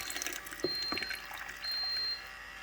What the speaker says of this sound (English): So it cycles the ice maker. So you see water's dumping out.